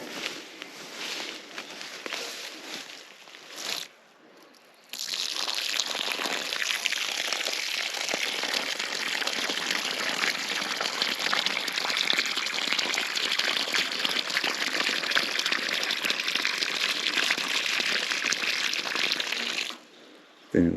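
Water pours from a watering can onto freshly planted larch seedlings outdoors, a steady splashing gush running for about fifteen seconds, preceded by a few shorter splashes and a brief pause.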